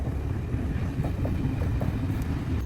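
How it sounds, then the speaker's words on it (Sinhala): A train passes near a garden, its steady low rumble and faint rhythmic rail clatter filling the short clip at moderate loudness with no talking. "චුටක් ඉන්න කෝච්චියක් එනවා"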